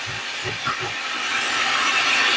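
An electric food processor chopper machine runs close by: a few low thumps, then a continuous whirring hiss that grows slightly louder and holds steady.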